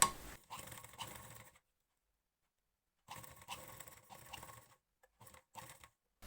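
A sewing machine stitches lace onto a blouse at home in short bursts, a soft rattling whirr that runs, pauses for over a second, then resumes with a few brief stop-start spurts, fairly quiet and close.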